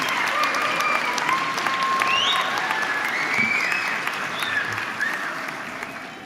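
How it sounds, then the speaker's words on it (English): A graduation audience whoops, cheers and applauds together, a dense, steady wall of clapping with rising shouts and whistles layered on top, fading slightly toward the end. "after 3, the whooping and the cheering"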